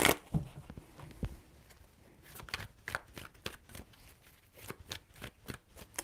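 Tarot cards are shuffled by hand in a series of soft, irregular riffling bursts, close and fairly quiet, with no talking.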